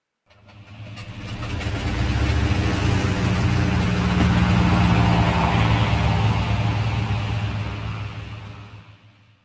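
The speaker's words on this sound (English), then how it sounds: "I guess that's supposed to be the sound of aircraft." Aircraft engines in a World War I strategy game, heard as a loud, steady droning roar that swells in and holds for several seconds before easing off, with no talking.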